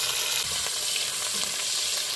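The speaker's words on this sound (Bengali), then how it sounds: "তেলটা গরম হয়ে গেছে, এবার চিংড়ি মাছটা দিয়ে দিব" Shrimp dropped into hot oil for a pumpkin ghonto fry with a loud, steady sizzle, a bright crackling hiss that fills the whole short stretch with no voices.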